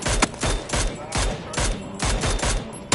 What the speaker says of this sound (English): You got shot from behind.